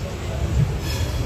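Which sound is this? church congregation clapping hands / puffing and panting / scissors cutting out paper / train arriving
train arriving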